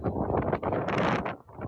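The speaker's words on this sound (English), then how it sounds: "It's windy too." Steady wind buffets the microphone with a rough, roaring rush that swells and dips without a break.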